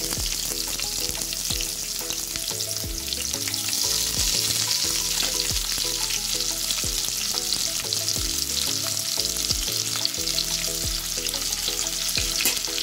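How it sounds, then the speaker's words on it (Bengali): Onions frying hard in a pan with cumin and curry leaves: a loud, dense, continuous sizzle that stays steady throughout, close up, with music playing underneath. "পেঁয়াজ দিয়ে অ্যাড করেছি। এবার এটাকে খুব ভালোভাবে একটু ফ্রাই করতে হবে।"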